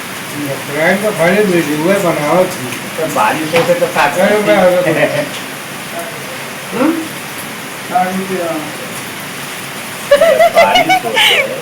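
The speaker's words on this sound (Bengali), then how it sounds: "তারপর সেই সকাল দেখে বৃষ্টি হয়েই যাচ্ছে" Steady rain falling in Assam makes a continuous broadband hiss throughout, heard beneath nearly constant nearby talking.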